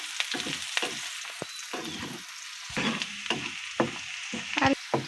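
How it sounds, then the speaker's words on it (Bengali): Chopped chilies and onions fry in a pan with a steady, close sizzle, broken by regular scraping strokes as they are stirred, with no voices. "মরিচ কুচি সবগুলো একসঙ্গে আমি ভেজে নেব হালকা"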